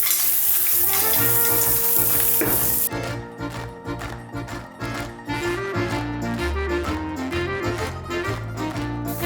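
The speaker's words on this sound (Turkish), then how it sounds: "Şimdi jumbo karideslerimi de tavama ekliyorum. Birazcık da onlarla çeviriyorum." Jumbo shrimp go into a pan with mussels for a seafood pasta and are stirred, a loud close sizzle at first, then a busier stretch of clinking and shuffling as the seafood is turned in the pan.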